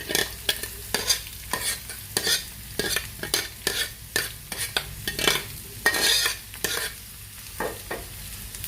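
Chopped small onions go into a hot pan for ulli theeyal and are stirred briskly, giving a close, rhythmic run of ladle scrapes and clinks over a steady oily sizzle, with no one speaking.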